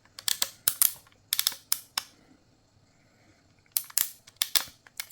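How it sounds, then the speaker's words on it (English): Clicking of the adjustment lever on a Kemei KM 1767 hair clipper, sharp close clicks in two quick bursts of about four or five each, separated by a quiet gap. "The clicking lever is not smooth."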